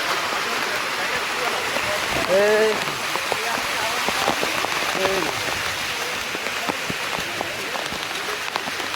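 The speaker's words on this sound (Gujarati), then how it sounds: "જો ભાઈ પાછો વરસાદ ફૂલ થઈ ગયો છે ચાલુ." Heavy monsoon rain pours down in the Girnar hills near Junagadh in a dense, steady hiss, with a voice speaking briefly over the downpour.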